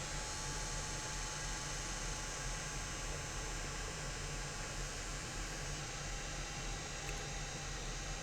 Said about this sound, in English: that noise that you hear, that's just a fan coming on my little solar generator